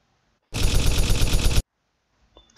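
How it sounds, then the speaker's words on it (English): Gunfire sound effect: one rapid burst of automatic shots, about a second long, loud and close, starting sharply out of silence and stopping abruptly, followed by a brief faint click. "So this is the gunfire effect."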